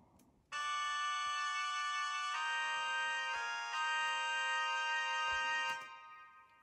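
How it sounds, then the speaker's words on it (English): Sampled trumpets from Sibelius notation software sound a sequence of closed-voiced chords, including a major seven chord, as sustained bright brassy blocks changing every second or so, then releasing into silence. "the Sibelius trumpets make it sound like this"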